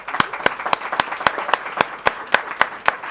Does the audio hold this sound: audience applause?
yes